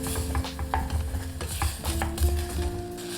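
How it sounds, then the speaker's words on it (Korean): Beef for seaweed soup is stir-fried with fish sauce in a pot, a spoon repeatedly scraping the bottom in rhythmic strokes over a continuous close sizzle, with light metallic clinks and no talking. "피쉬소스 1큰술을 넣고 바닥에 붙은 것들을 긁어주듯이 볶아주세요."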